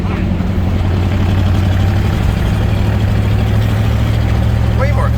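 A custom 1952 Diamond T 332 pickup truck engine drones steadily and loudly from inside the cab while the truck is driven in third gear.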